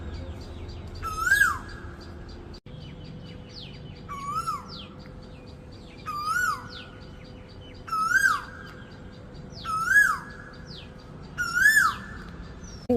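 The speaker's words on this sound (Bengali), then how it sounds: "আজকে কোকিলের ডাক শুনে বড় ভালো লাগছে।" An Asian koel calls in the morning among tall city buildings, giving six clear, rising calls spaced about two seconds apart over a quiet, low hum.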